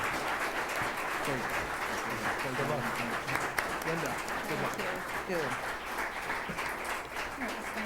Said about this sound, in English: I'm going to lift my ban on applause as we thank all the candidates for their